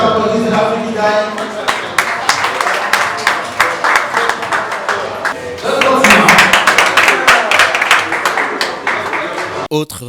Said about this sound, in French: Bravo, ça s'applaudit, c'est l'Afrique qui gagne.